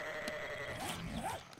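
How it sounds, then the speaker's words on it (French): Sheep bleat in the survival game 7 Days to Starve, a couple of wavering calls rising over a steady background hum, fairly close and alone without talk. "Il faut qu'on mette les moutons autre part."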